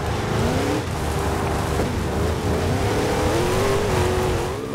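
A Dodge Charger engine revs loud and steady in Forza Horizon 2, holding a continuous roar with shifting pitch and brief tire squeal for the whole stretch, no voices over it.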